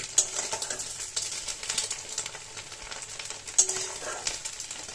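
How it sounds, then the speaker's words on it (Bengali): A spatula scrapes and stirs fried egg into leftover rice in a sizzling pan, the frying hiss continuous and fairly quiet, punctuated by sharper clicks of metal against the pan. "ডিমটা দেওয়ার পর আরেকবার একটু নেড়ে ব্যাস তারপরে নামিয়ে নেবো"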